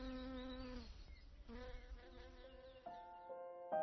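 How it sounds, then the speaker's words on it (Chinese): Chinese honeybees buzzing among flowers in the Shennongjia forest, a steady close insect drone with layered tones that rise and shift as bees move between blossoms, no voices present. "相对于其他蜜蜂成片采蜜，中华蜜蜂则善于搜集零星蜜源。"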